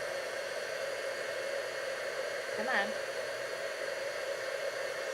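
A hair dryer blows steadily up close for heat embossing, a constant loud whooshing hiss, with a brief spoken remark over it partway through.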